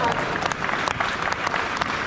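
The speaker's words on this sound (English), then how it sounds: "can we get a round of applause first of all for Anna" Audience on stage at The Cycle Show breaks into lively applause, dense rapid clapping close and loud with a few individual sharp claps standing out, crowd murmur beneath.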